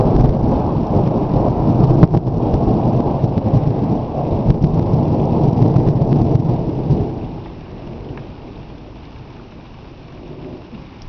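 Heavy thunder from an evening storm rumbles over steady rain, loud and rolling for several seconds before easing into a quieter patter of rainfall.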